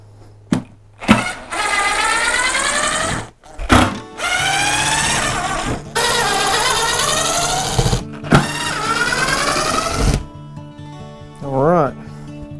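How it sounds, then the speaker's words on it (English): Cordless Dewalt drill backing screws out of a reclaimed pallet-wood workbench top, several whirring bursts of a second or two each with short pauses between, loud and close, ending in a brief rising whine. "Gonna pop these screws here loose."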